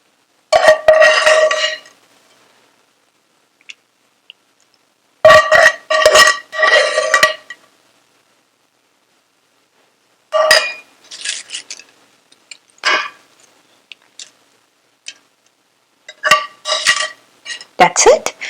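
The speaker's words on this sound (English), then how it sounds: "we're going to add the baghar or tadka on top" Hot tadka tempering is added on top of a pot of karhi pakora, a yogurt curry with dumplings. It comes as several loud bursts of sizzling and pan clatter separated by silent pauses, with no talk.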